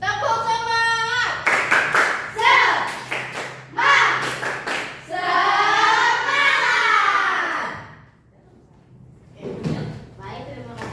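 A classroom group stands and claps a rhythmic spirit clap in sharp, loud bursts of synchronized slaps, alternating with spoken and chanted call-outs between the clapping patterns.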